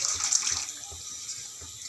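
Soaked tamarind juice pours into a cooking pot while making bisi bele bath, a steady close liquid splash and trickle lasting a couple of seconds with no talk.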